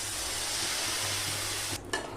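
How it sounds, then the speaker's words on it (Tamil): Tamarind extract is poured into a sizzling pea eggplant curry in a pan, giving a loud steady hiss and bubbling that cuts off near the end, followed by a brief stirring knock. "புளி கரைச்சல ஊற்றிடலாம்."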